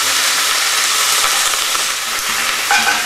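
Spinach frying in oil in a frying pan, a steady loud sizzle and hiss throughout as the leaves are stirred, with no talk.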